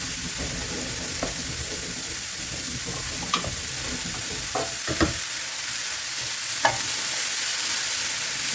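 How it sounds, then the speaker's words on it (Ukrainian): Mushrooms fry over high heat with a steady sizzle filling the pan, with occasional clinks and scrapes of a utensil stirring them, no voices. "Гриби смажу на великому вогні, картоплю смажу на середньому вогні. Не забуваємо перемішувати."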